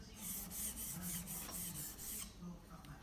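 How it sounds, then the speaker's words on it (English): A chisel blade's back and bevel being honed on a sharpening stone, a soft rasping rub repeated in quick regular strokes, close and quiet, with a brief pause near the end. "rub the back and then the bevel"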